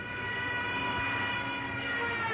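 A Stuka dive bomber's siren wails steadily during a dive in a May 1940 wartime scene, a sustained, dense, high howling tone that holds without a break.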